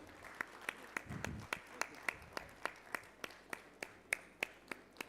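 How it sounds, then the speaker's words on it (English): At a national mining ministers' conference, the audience claps in a slow, steady rhythm of crisp, regularly spaced hand claps, fairly quiet and distant, with a brief low murmur near the start. "Let the applause keep coming"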